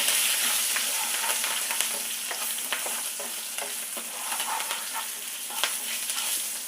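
Vegetables sautéing in an oil-filled pan with green chilli and asafoetida, a steady loud sizzle broken by scattered scraping stirs of a spoon, close up and with no talking.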